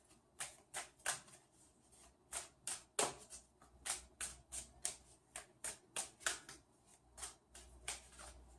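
Crisp, rapid card riffles and snaps repeat in a steady rhythm, close and quiet, with short gaps between bursts.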